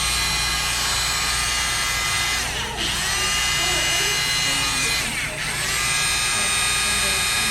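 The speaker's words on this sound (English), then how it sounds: "this is our handy dandy blow brush" Hot Tools plastic blow brush running on a synthetic wig, a steady close motor whir with airflow hiss that dips briefly twice as the brush moves.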